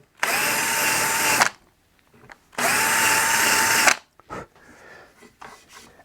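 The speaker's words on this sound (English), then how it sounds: "your cordless drill is just put it in the hole and essentially sand the edges" Cordless drill spinning in drilled holes in a guitar neck to sand their edges, two loud sustained whirring bursts of about a second each, followed by quieter handling clicks and rustles nearby.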